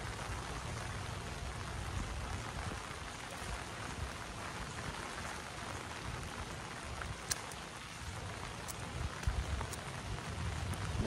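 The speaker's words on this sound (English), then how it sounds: "It's starting to rain." Rain falls steadily on a garden, a continuous soft patter with a few sharper, closer drop hits standing out, and no talking.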